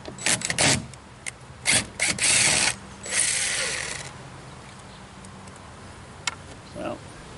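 Screws are backed out of a pool deck board with a ratcheting tool, giving several short bursts of clicking and whirring near by, separated by quiet pauses.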